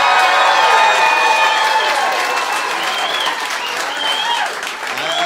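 Live comedy show audience in Philly applauding and cheering for provolone, a loud, dense burst of clapping and whoops that slowly tapers off.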